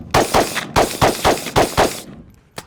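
Rapid gunfire from an AK/AR hybrid rifle shot at targets: about eight sharp, loud reports in a quick, slightly uneven string, a short pause, then one final shot.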